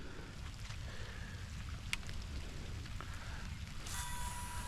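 Steady rain patters on water and a boat during bass fishing, a constant soft hiss with light drops and faint thumps against the hull, heard alone and at low level.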